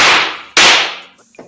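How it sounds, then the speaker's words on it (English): Two sharp, loud gavel bangs, the second about half a second after the first, each ringing off briefly before a faint trailing sound. "I gotta bang the gavel on Navarrete."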